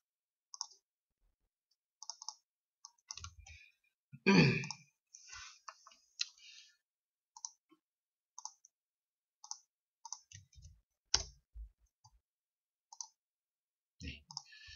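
Sparse, crisp computer mouse clicks at irregular intervals, some in quick pairs, close and quiet, with a brief breathy sigh or murmur partway through.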